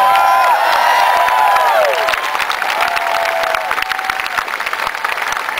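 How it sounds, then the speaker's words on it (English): Rally crowd at a Barack Obama "Change We Need" event in Manchester, New Hampshire, loud sustained applause and cheering throughout, with whoops rising above the clapping and a voice faintly present under the din. "Give them a big round of applause."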